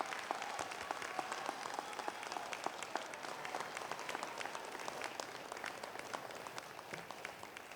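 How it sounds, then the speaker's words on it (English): Graduates at a winter commencement applaud their family and friends: steady, even crowd clapping with many hands, sustained at moderate distance and fairly faint overall. "Now turn around and applaud the family members and friends who have always been there for you when you needed them the most."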